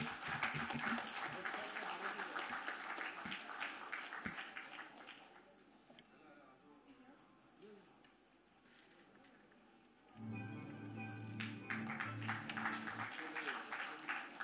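Applause from an audience at an Indian school merit awards ceremony swells and then fades, followed by a loud burst of music and renewed clapping, with a voice heard over it.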